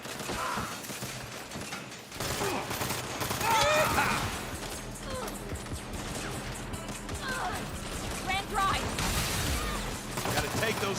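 Sniper gunfire and other shots rattle through a Saints Row firefight, dense bursts and impacts under game sounds with a voice talking at moments.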